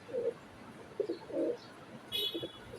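Several soft, low pigeon coos in short bursts from Bexi silver pankhi pigeons, close by, with a brief faint higher chirp near the end and no talk.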